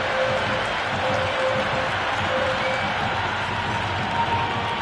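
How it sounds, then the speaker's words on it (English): Stadium crowd at an India versus South Africa T20 cricket match roaring and applauding after a boundary four, a dense, sustained wash of cheering and clapping from all around. "The crowd love that one."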